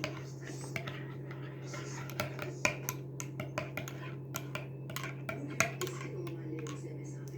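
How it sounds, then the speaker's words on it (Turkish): A spoon stirs milky coffee in a cup, making a quick series of light, close metallic clinks and taps over a steady low hum, with soft speech at moments. "Bir kaşık daha kahve kattığım için karıştırıyorum."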